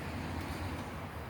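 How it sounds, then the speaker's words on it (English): Traffic passing by outdoors, heard as a steady, moderately faint broadband road rumble with no talking over it. "I'm outside, so you might hear some traffic passing by."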